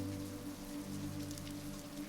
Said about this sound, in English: As the rain streaks down the floor-to-ceiling windows overlooking the courtyard